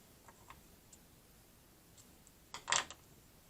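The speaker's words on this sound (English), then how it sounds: "Then I'm going to cut off the excess yarn." A single quick snip of scissors cuts excess yarn from a crocheted amigurumi doll, preceded by faint small ticks in an otherwise quiet room.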